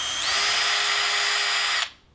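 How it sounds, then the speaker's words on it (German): A small bit drills through a cracked exhaust manifold from a bus, a loud, steady, close high-pitched whine that runs for nearly two seconds, then stops abruptly. "Oder ich einfach jetzt mal ausbohren. so durchbohren mit einem kleinen Bohrer."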